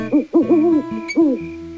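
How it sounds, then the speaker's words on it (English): An owl hoots at night, a few loud, close, clear calls that slide in pitch, heard on their own with no talk. "The soft cry of the owl."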